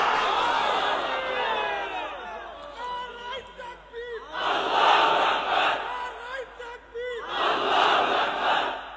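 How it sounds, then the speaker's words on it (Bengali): A large crowd at a Bangla sermon shouts the takbir in unison, in loud bursts of chanting that rise and fall across several waves, with a preacher's voice leading between them. "তাকবীর দাও।"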